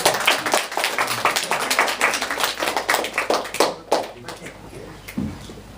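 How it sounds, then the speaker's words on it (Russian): A small audience claps after a family's musical performance by a mother and three children; close, distinct claps in an uneven patter that thins out toward the end, with a voice briefly heard. "Аплодисменты."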